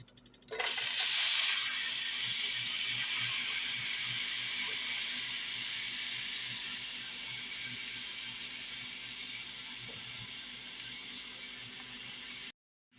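A sudden loud sizzle bursts up as onions hit hot oil, then settles into a steady, close hiss that fades slightly before stopping.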